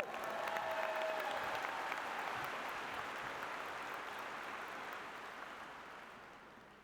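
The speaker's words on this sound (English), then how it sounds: "can we have another round of applause for our new Doctors of Education?" Graduation ceremony audience applauding new Doctors of Education, a broad wash of clapping from a large hall crowd that holds steady and slowly tapers off.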